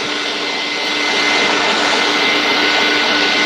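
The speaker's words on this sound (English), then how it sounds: "I don't know if you could hear the tonal change in the grinder." A meat grinder works through bratwurst meat with a loud, steady motor whine and roar close by. It runs continuously with a slight shift in tone partway through, and no one speaks.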